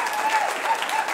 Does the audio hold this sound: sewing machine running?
no